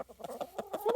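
A chicken clucks in a rapid string of short, close notes over about a second, ending in a rising squawk, quiet and with no talking.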